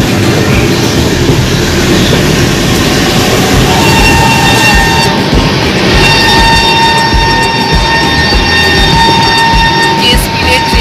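Overnight passenger train from Bangalore to Kolkata rumbles steadily at speed, with a loud continuous roar, rattling carriage noise and faint clickety-clack throughout, and no talk.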